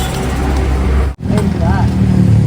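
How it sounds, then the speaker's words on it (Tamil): Road traffic with vehicles rumbling past, loud and steady with a brief dropout midway, under a voice talking. "அதனால நிறைய வண்டி சவுண்டு தான் கேட்கும்"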